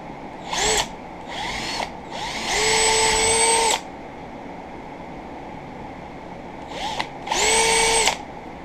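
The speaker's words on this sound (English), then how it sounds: "Take my hand drill." Hand drill boring into the wood of a homemade chisel sharpening jig, several separate whining bursts of varying length, close and loud, with pauses between them.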